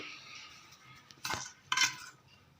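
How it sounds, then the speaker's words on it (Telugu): Chicken liver fry with garlic chilli being served onto a plate, with quiet scraping and two sharp clinks of a metal spoon against the dish, close and otherwise hushed. "ఒక ప్లేట్లోకి తీసుకొని సర్వ్ చేసేసుకుందాం"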